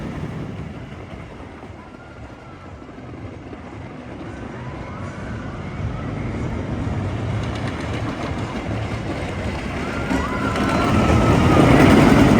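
An old wooden roller coaster train at Kennywood in Pittsburgh rumbles along its track with a steady clattering roar that swells louder toward the end, with no one talking.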